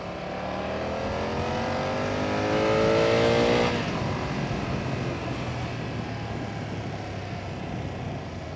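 A BMW F900R motorcycle accelerates hard through the gears, its engine note climbing loud and close before a sharp shift near the midpoint, then pulling on steadily.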